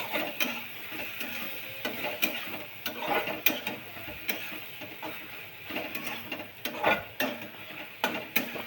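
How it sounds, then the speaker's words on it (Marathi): Pasta sautéed and stirred in a pan, a quiet run of irregular clicks, taps and light scrapes from the spoon against the pan, close and without speech. "पास्ता टाकून घेऊया आता. मस्तपैकी त्याला चांगलं परतून घेऊया."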